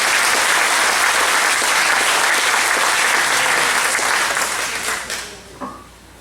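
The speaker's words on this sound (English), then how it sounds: "let's give him applause as well" An audience at a community association's annual meeting in Fairfield Harbour, New Bern, North Carolina claps steadily and densely for several seconds, then the applause thins and fades out.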